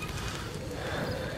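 A horse's hooves clip-clop in Metal Gear Solid 5, a quick steady trot of muffled thuds blended with ambient game noise over a short stretch.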